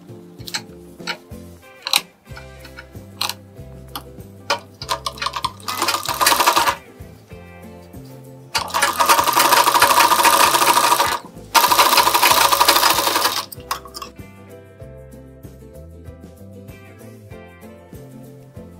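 Sewing machine stitching a blouse lining, several loud, sustained runs of fast needle whirring separated by quieter stretches with light clicks and handling noise, no speech.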